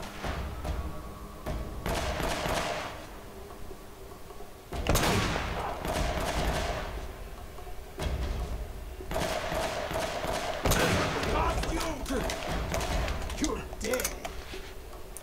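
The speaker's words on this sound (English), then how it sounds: "I need to just take some of them out with my sniper." Gunfire from the video game Uncharted in a firefight: repeated loud, sharp shots and bursts, some spaced apart and some in rapid clusters, ringing over constant battle noise, with voices in the background.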